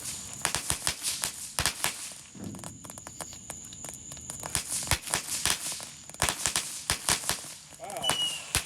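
Backyard fireworks and a smoke bomb going off, with rapid sharp firecracker-like pops and crackles in bursts across the clip, close and loud, with a brief whistle near the end and people's voices between bursts.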